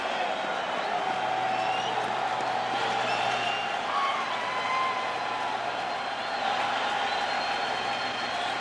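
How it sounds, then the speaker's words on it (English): A baseball stadium crowd at a World Series game between the Dodgers and Red Sox keeps up a steady, distant roar and murmur beneath a broadcaster talking. "Crowd behind Barnes."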